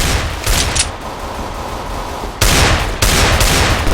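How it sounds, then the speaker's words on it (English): Gunfire in a competitive Counter-Strike match comes in several sharp, loud bursts, with a short volley near the start and heavier bursts toward the end. "I shot you in the back of the head."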